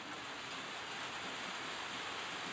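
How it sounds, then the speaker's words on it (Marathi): Steady, dense hiss of rain falling, constant and even throughout with no voices. "आणि हे पाऊस पडतोय"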